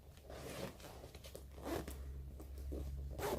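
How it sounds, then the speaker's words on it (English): Zipper on the laptop compartment of a Pakt One travel backpack being pulled, a steady close rasping run of a few seconds heard on its own. "It zips smoothly and easily. It's really good quality zipper."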